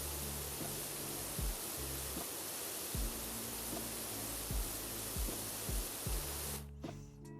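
Steady pressure washer spray from PowerWash Simulator, a continuous broad hiss running loud for about six and a half seconds with faint in-game tones beneath, then cutting off abruptly near the end.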